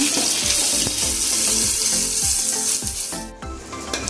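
Cut tomato fries in oil for prawn biryani, producing a loud, unbroken sizzling hiss close by, broken by regular scraping strokes of a stirring spoon.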